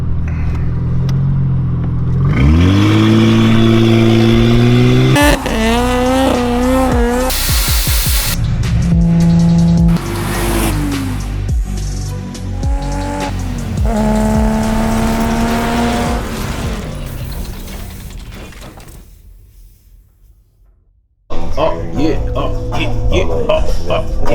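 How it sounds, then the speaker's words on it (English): Toyota Soarer turbo engine revving hard while brake boosting, rising and falling engine tones with loud sustained surges and a brief quieter dip before roaring again, close by. "see if I can brake boost it a little bit. Maybe just work her on up."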